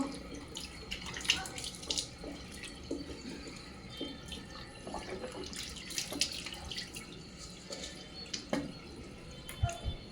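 Running water splashes steadily from a tap, with irregular splatters and drips as something is rinsed nearby.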